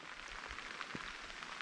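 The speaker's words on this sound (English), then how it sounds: "the rain has picked up." Rain falling outdoors during a bass fishing trip on a lake in Maine, a steady close hiss of drops with a few brief low knocks, no voices.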